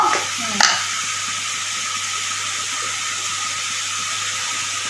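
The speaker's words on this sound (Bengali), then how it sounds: "একটু ভাজা ভাজা করবো" Nigella seeds fry loudly in hot oil for a potato curry, making a dense, continuous sizzle. A brief clattering stir comes near the start.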